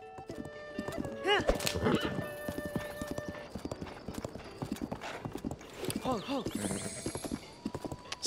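Horse hooves clip-clop at a gallop in Zelda: Tears of the Kingdom, a steady rhythmic patter with whinnies and neighs over game music, while a player talks over it.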